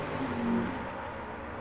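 A big Hemi-powered 1968 Plymouth Barracuda charges down a drag strip at an old-time drag meet, its engine a loud, steady roar held for the whole short stretch with no voices over it.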